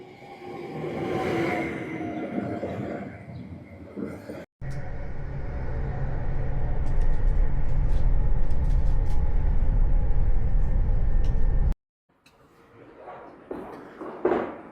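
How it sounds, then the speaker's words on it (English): Golden Swiss passenger train pulling into a station, a loud sustained rumble and rolling rail noise with metallic squeals and clatter, ending abruptly, followed by quieter station ambience. "So here comes the first train of the day, the golden train."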